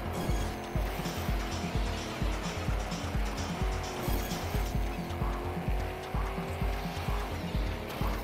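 A race car in a racing video game accelerates and brakes around a basic track, with a continuous engine drone and rhythmic pulsing revs and tire noise at a moderate level.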